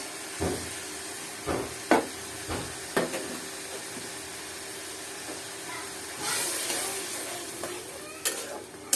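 Prawns fry in a pan with turmeric, chili and salt for a water lily and prawn dish, giving a steady sizzling hiss with intermittent stirring clinks. The hiss swells louder for a moment midway.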